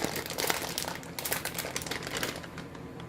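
Steady crinkling of a plastic bag of cheese mix being handled in a home kitchen while baking, close and fairly quiet, with irregular rustling bursts and no talking.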